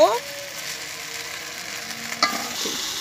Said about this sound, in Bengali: এখন আমরা ভালো করে নাড়াচাড়া করব, প্রায় 8 থেকে 10 মিনিট নাড়াচাড়া করব